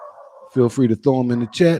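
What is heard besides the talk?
dog barking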